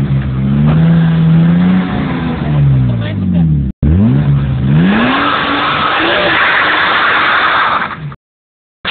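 A chipped BMW engine with no rev limiter revs hard close by, its pitch climbing and falling through two sharp sweeps. After a brief cut it settles into a loud, rough, sustained roar, then stops abruptly into silence.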